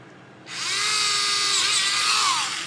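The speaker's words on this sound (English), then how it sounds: "so just drill a bunch of holes" A small high-pitched rotary tool whines up abruptly and runs steadily at close range, drilling holes in a plastic DeLorean scale model part, its pitch dipping slightly as it bites into material.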